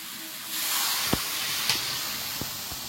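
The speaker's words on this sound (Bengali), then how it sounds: "এবার জল দেয়।" Water poured into curry frying in a hot pan gives a sudden loud hiss of steam that holds steady, with a few small clinks, close and alone.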